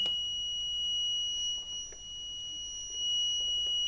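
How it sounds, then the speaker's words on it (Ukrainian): A SINORESC 1500W UPS unit emits a steady, high-pitched electronic beep continuously over a quiet hum of background noise, with no talking. "Ми бачимо, що у нас пищить наш. ДБЖ."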